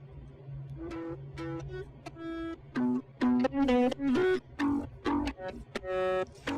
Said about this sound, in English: And that's the bass going through Little Altar Boy an octave up.